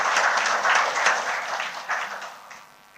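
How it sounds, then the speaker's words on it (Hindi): Audience applause at a scholars award ceremony, a dense, steady wash of many hands clapping at moderate level through the whole stretch, tapering slightly toward the end. "एक बार ताली बनती है भाई।"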